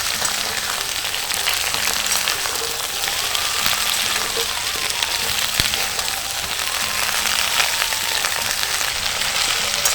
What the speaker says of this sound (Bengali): এই যে নাড়াচাড়া করে ভাজছি মাঝে মাঝে একটু ঢাকা দিয়েও রাখছি